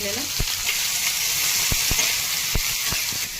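Onion, tomato, ginger and garlic frying in oil in a pan, a strong steady sizzle up close punctuated by several sharp spatula knocks and scrapes against the pan, with no voices.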